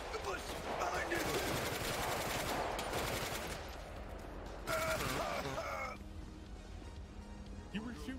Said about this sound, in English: You were shooting at me.